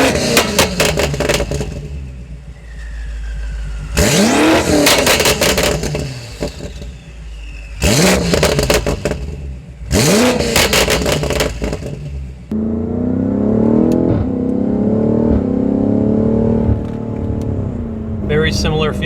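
A 4.4-liter twin-turbo V8 car engine revs hard in repeated bursts, with gear changes and a deep rumble, then settles into a steady loud drone while driving.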